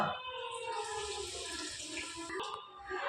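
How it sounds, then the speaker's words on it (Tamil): Water pours steadily into a pan for making sugar syrup for sweet laddu in a village kitchen, a continuous splashing gush that runs for about three seconds with no talk. "தண்ணி ஊற்றிக்கலாமா"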